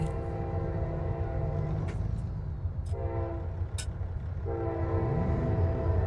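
A train rolls past in American Truck Simulator on a drive through Montana toward Butte, a steady low rumble of wagons running throughout, with two short horn blasts sounding near the middle.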